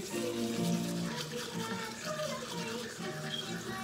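Water runs from a tap into a bathroom sink or tub, a faint, steady splashing flow with a muffled background hum throughout.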